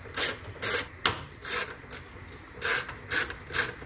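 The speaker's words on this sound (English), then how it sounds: "Undo these two bolts for the intake screw so that you can remove this as one part." A ratchet wrench undoes size 10 hex bolts on a car's intake, clicking in short repeated bursts of rapid pawl ticks. About eight strokes come at an uneven rhythm, close and moderately loud, with no talking.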